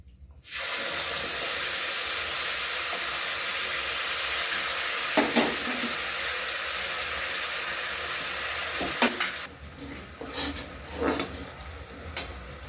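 Bay leaf and ground spice paste hit hot oil in a pan for a vegetarian soybean and potato curry, bursting into a loud, steady sizzle that runs nearly unbroken, with a few stirring clinks before it quiets toward the end.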